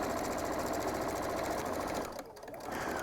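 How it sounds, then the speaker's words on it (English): A sewing machine top stitching curtain fabric runs as a steady, fast mechanical whir with a rapid needle rhythm, close and continuous, then briefly slows and eases off before picking up again. "now I'm gonna top stitch all the way down to a couple of inches from the bottom"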